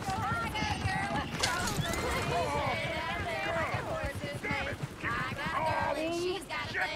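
Horse hooves clip-clop in Red Dead Redemption 2, a steady trotting rhythm with occasional neighs, mixed under overlapping character dialogue.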